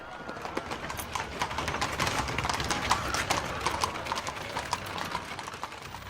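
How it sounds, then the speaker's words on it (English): Many hooves clatter continuously, a dense, busy clopping of several horses moving together, fairly loud with a rough background wash. "Only then would the horses move on."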